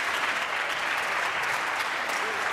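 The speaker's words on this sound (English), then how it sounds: "The Ford government is standing up and applauding" Sustained, dense applause fills the Ontario legislature during Question Period as Ford government members stand and clap, steady and loud throughout.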